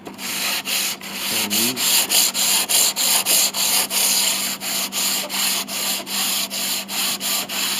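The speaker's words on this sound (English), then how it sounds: "It helps if you have new sandpaper too." Sandpaper rubs back and forth across a wooden bridge on a Mason & Hamlin CC piano under rebuild, giving rhythmic close scraping strokes roughly twice per second, with a brief spoken word early on.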